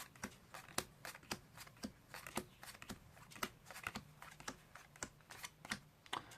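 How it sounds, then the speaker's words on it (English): Playing cards are dealt one by one into three piles, each landing as a light, sharp flick on the table in a quick, slightly uneven rhythm, close and quiet with no talking. "you can deal the cards down into 3 piles"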